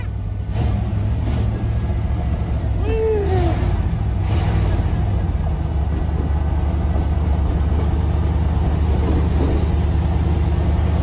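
A 1980s IROC Camaro with a 5-speed manual drones steadily while driving, a close, constant low rumble that stays even throughout with a few faint higher noises early on.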